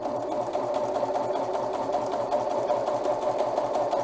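A serger stitching ribbon with wire runs steadily and loudly up close, its rapid even mechanical whir continuing without pause and with no talking.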